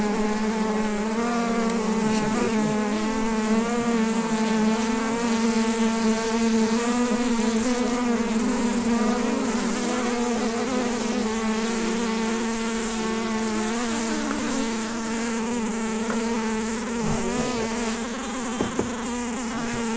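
Honeybees buzzing around a back garden beehive: a dense, steady, close drone that holds at an even loudness for the full twenty seconds, with no voices.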